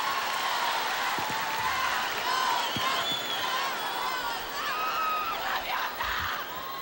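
The crowd at the Viña del Mar festival in 2009 applauds and cheers for Juanes, a steady roar of clapping, whoops and yells from a large audience, with a voice briefly over it.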